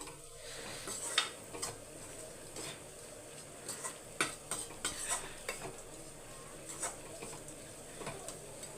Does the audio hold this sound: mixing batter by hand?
yes